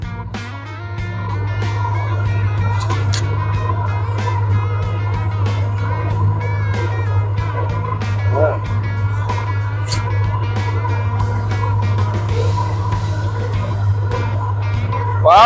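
A V-drive boat engine idles high and steady, a loud continuous low drone with a constant hum throughout, sharp ticking transients scattered over the top.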